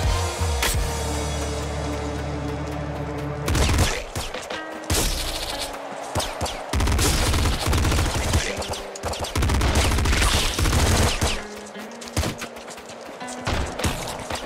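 Sustained machine gun fire in the top-down shooter Nuclear Throne, loud and dense, with rapid bursts of shots and impacts running almost continuously, broken by brief pauses and a steady tone underneath early on.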